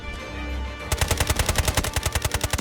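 Sniper and automatic gunfire in the mobile shooter game Delta Force Mobile, a rapid, evenly spaced burst of loud shots that starts abruptly after a quieter lead-in and keeps a steady rhythm to the end.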